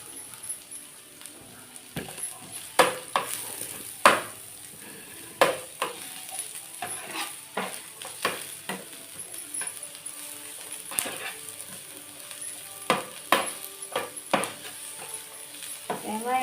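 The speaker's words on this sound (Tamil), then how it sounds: "வெங்காயம் வந்து இதில் கொஞ்சம் நேரம் நம்ம வந்து வதங்க விடணும்." Finely chopped onions sauté in a dosa pan for kothu parotta, a soft, close sizzle broken by scattered sharp clinks and scrapes of a spatula against the metal.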